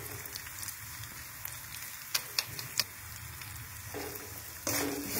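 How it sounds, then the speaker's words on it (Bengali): Spices with turmeric and Kashmiri chilli powder frying in a pan, a steady soft sizzle with a few sharp scraping clicks from stirring partway through, close and fairly quiet throughout. "তারপর এগুলো সব একসঙ্গে মশলাগুলোকে ভাজতে হবে।"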